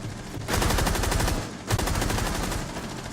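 Automatic gunfire in a video game comes in two sustained rapid bursts, each a dense rattle of evenly spaced shots with a short gap between them, close and loud with no speech.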